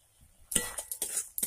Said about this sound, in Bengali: কারিটাকে এবার আমি নাড়তে থাকবো। 30 সেকেন্ড এইভাবে নাড়বো।